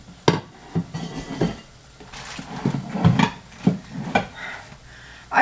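A plate is taken out and handled in a home kitchen: scattered clinks, knocks and wooden bumps of dishes and a cupboard or drawer, close and moderately loud, in irregular bursts.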